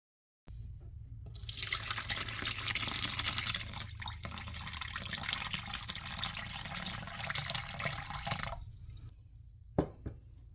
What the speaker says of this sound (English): Now we're going to strain the whey from the curds.